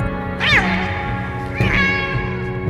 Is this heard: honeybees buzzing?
no